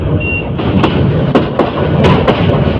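A Dhaka–Chattogram Chattala Express train draws near on the line, a loud, steady rumble with recurring sharp clacks and a faint tonal whine early on.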